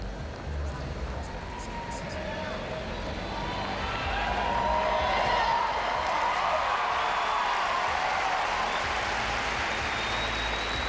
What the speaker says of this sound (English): you hear the yelps of joy from his teammates in the background